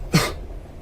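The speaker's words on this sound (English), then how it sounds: "What's with the coughing?" A single short, sharp cough from a character in the video game The Charnel House Trilogy, close and distinct against a quiet background.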